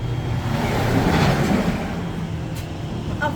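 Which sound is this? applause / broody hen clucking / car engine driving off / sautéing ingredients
car engine driving off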